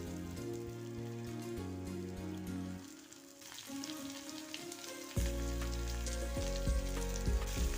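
Sliced onions for brinjal masala fry in hot oil, a steady broadband sizzle that dips briefly midway and then swells louder and denser over a low background hum, with no talking.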